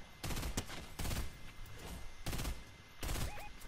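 Rifle gunfire in the Fortnite video game comes in four loud bursts of rapid shots separated by short pauses, with game sound effects in between.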